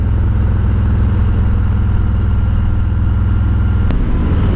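A 2019 Harley-Davidson Road King fitted with a Rinehart Racing DBX45 slip-on exhaust rumbles loud and close with a steady low throb, then a sharp click and a shift in the engine note near the end.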